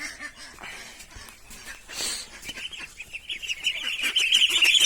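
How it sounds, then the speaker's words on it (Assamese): Two Chinese geese honk nearby in a farmyard with repeated loud, nasal calls that grow more frequent and louder toward the end. "আমাৰ ইয়াত 2টা চীনা হাঁহ আছে"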